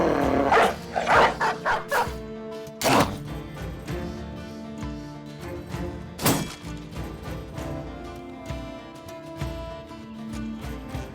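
A hound in the video game Battle Brothers barks several times in sharp bursts early on, with a later single bark, over a continuous game soundtrack and ambience.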